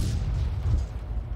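Heavy booming tank gunfire in World of Tanks from a leKpz M41 90mm tank battle, deep low rumbling report with lingering echo, continuous through the short moment.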